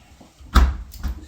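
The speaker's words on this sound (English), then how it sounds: "I need to get some milk from the fridge." An appliance door thumps open, followed by a softer knock as it closes a moment later, close by in a quiet room.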